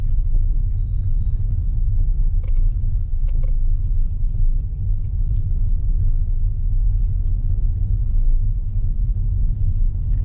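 A car cruising along a road, heard from inside as a steady, continuous low engine and tyre rumble with no pauses and no one talking.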